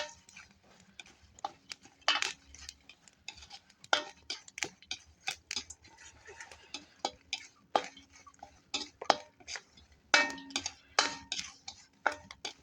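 Bay leaves and curry leaves are dry roasted in a pan, heard as sparse, close scraping and tapping of a spoon against the metal in irregular bursts, with no voices.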